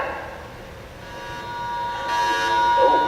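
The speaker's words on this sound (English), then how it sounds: "alarm bell?" A steady electric alarm bell rings on and off aboard a cruise ship in difficulty, against a low rumble, growing louder toward the end.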